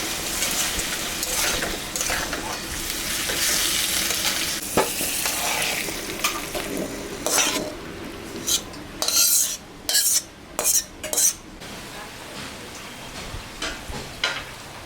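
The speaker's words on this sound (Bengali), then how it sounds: "আমি চচ্চড়ি রান্না করলাম ছোটো মাছে" A small-fish chorchori cooking in a pan sizzles continuously while a spatula stirs and scrapes through it, with the scraping growing into a run of sharp, rhythmic strokes near the end.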